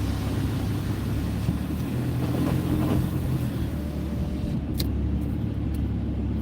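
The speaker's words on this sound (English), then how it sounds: "we're about to go through the roads flooded" Car driving through a flooded road in rain with windows down, a constant loud rumble of engine and tyres on water-covered tarmac, with a few brief splashy spikes near the end.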